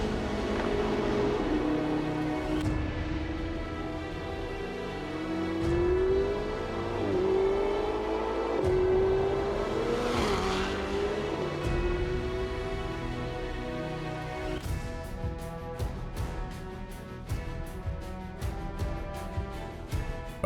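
Ferrari 488 sports car engine revving, a rising and falling tonal engine note building through several pulls over about twenty seconds, with rapid sharp bursts near the end, under music-like background and no talk.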